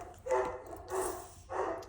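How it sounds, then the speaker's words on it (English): Dogs bark indoors in three separate, moderately faint bursts, evenly spaced, with quiet pauses in between and no talking. "Sorry about the dogs."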